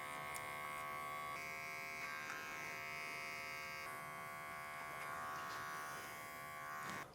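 An electric hair clipper buzzes continuously during a classic slamback haircut, a steady, close electric hum that runs throughout without pause.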